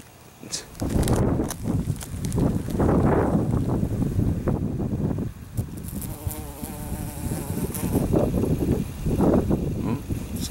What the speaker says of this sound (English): You're gonna get stung if you chase that bee.